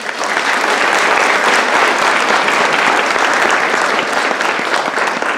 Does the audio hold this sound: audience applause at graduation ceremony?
yes